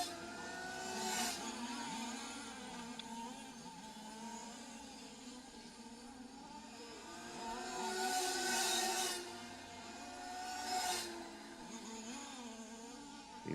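Large-scale RC race cars lapping a track at a European championship finals day, a distant buzzing whine of small engines rising and fading as cars pass, with louder swells at intervals.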